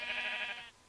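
Sheep bleating in the Minecraft video game, a single drawn-out game-sound bleat that is loud and close, then cuts off sharply with nothing following.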